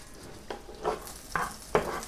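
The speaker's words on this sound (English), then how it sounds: "so now I'm just stir frying raisins" Raisins stir-fried in a pan used for golden cashews, with a soft sizzle under four distinct scraping stirs spaced about half a second apart, close and fairly quiet.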